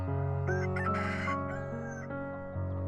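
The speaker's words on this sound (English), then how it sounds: "We should sell these chickens to the butcher." Chickens clucking and a rooster calling at a busy market, steady and close, with layered bird calls over a continuous background hum.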